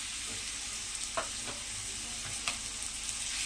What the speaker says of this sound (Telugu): పెట్టుకున్న బొప్పాయిని వేసి చక్కగా ఫ్రై చేసుకోవాలి